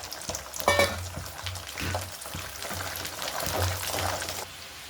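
Whole peeled garlic cloves fry in hot oil for a garlic pickle, giving a steady close sizzle with occasional stirring clinks and no talking.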